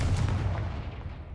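The Confringo blast spell goes off in the Hogwarts Legacy video game as one deep, booming explosion with a rumbling tail that fades over about a second and a half.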